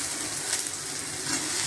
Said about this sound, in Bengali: এবার পেঁয়াজ, পেঁয়াজটা এবার অল্প ভেজে নিচ্ছে